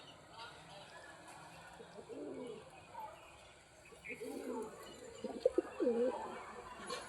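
A racing pigeon and a rock pigeon pairing up give low, faint coos, which grow clearer and more frequent toward the end, mixed with murmured speech and light outdoor background noise.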